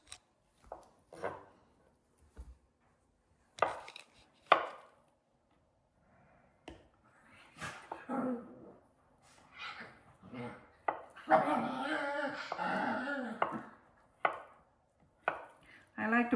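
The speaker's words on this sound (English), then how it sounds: "So we're going to cut these up." A knife cuts boiled, peeled Yukon Gold potatoes on a board. Close, crisp knocks come in uneven bursts, with a denser run of cutting near the end and occasional talking between strokes.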